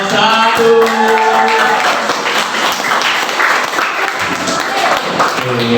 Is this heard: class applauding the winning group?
yes